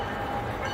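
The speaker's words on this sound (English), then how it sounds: "the CSX train in Pine Avenue, California, it was able to slow down in time" A CSX freight train rumbling past at slow speed on Pine Avenue, California, a steady close-by roar of rolling rail cars with no breaks.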